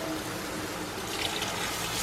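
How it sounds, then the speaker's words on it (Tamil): Tamarind water is poured into a simmering Kumarakom-style fish curry, giving a steady, close, continuous splashing pour of liquid with no talk. "என்கிட்ட கொடம்புளி இல்லை, அதனால நான் சாதா புளி கரைசல் விடுறேன்"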